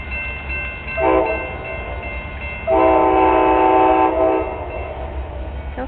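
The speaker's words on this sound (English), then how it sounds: "here comes the Amtrak train" An Amtrak train arriving, its horn sounding a short blast and then a longer sustained chord over a steady low rumble of rail noise.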